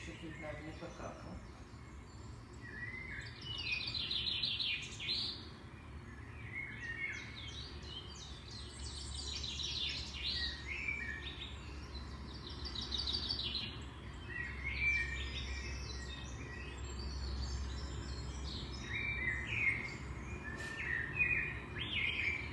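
Small birds chirping outside, scattered high tweets and short calls that come and go throughout, fairly faint over a low steady background hum.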